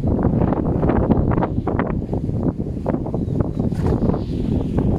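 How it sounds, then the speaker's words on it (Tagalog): Gusty wind buffets the microphone outdoors during a fishing trip, a continuous rough rumble and flutter with no clear breaks, loud and close throughout. "Oo, may hangin."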